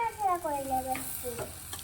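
Rice being stirred in a miniature toy cooking pot for a doll-sized basanti pulao, with a few close scraping strokes over a faint sizzle and no talking.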